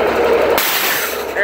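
A WABCO 1200 air dryer on an M939 series military truck purges with a sudden loud hiss of compressed air, bursting in abruptly after a brief stretch of engine and voice and then sustaining strongly to the end.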